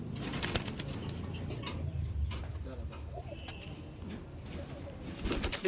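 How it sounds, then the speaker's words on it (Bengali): Bangladeshi Giribaz racing pigeons in a loft coo softly and flap their wings over a steady murmur of background noise, with a few chirps mixed in. "দেখুন বাংলাদেশি পাল্লা দেওয়ার গিরিবাজ পায়রা কালশিরা গিরিবাজ"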